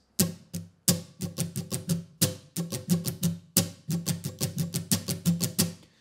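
Acoustic guitar strumming a song's strumming pattern, a steady rhythmic run of sharp down and up strokes with brief gaps between phrases, close and alone.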